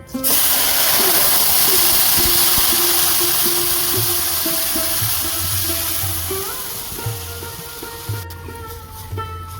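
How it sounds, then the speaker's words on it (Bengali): Milk poured into a hot pan of reddish fried vermicelli for payesh gives off a loud, steady hiss and sizzle that slowly fades, with faint background hum and a few soft clinks near the end. "এবার আমি দুধ ঢেলে দেব"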